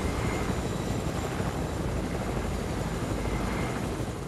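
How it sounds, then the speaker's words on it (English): Helicopter flying in the video game Fortnite, a continuous dense rotor and engine roar that stays steady and loud throughout, with no voices over it. "Apparently helicopters are faster than any other vehicles in this game."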